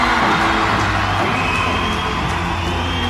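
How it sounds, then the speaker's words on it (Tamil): At a hall event where Vijay is making a political speech, a crowd of fans gives off a steady, dense roar of cheering and shouting, loud and sustained without pause. "ரசிகர்களின் ஆரவாரம் அரங்கை நிறைய செய்தது"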